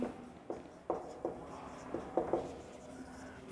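A pen writes out a grammar exercise with soft, close scratching strokes, and sharper taps and scrapes fall at irregular intervals while the room stays otherwise quiet.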